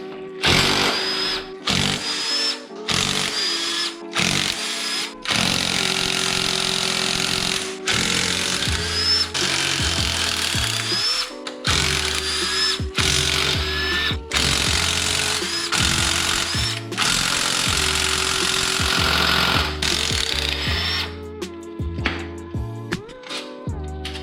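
A power tool buzzes loudly and close while removing transmission bolts, running in repeated short bursts of whirring separated by brief gaps, with pitch shifts as it spins up and down.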